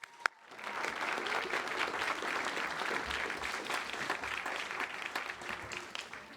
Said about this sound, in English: hear another round of applause.